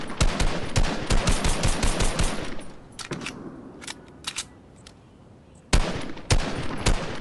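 Shotgun fire in an online shooter video game: rapid bursts of sharp, loud shots, a short lull with a few scattered blasts, then another heavy volley near the end.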